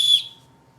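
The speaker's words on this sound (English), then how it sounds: "it's got a whistle built in, kind of a frullati thing." A whistle built into the sternum strap buckle of a Marmot CAM 15 backpack gives one short, shrill blast that stops abruptly, with only faint background hum afterward.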